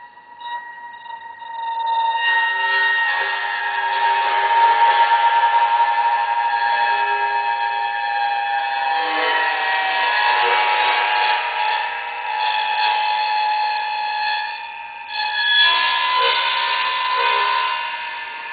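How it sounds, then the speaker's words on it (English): A cymbal scraped slowly with light pressure rings out in sustained, shimmering harmonic tones that swell and shift steadily, alone and fairly loud throughout. "attempt to demonstrate the harmonic scrape, firstly with a slow movement and light pressure."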